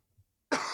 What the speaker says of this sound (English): Still coughing up a storm.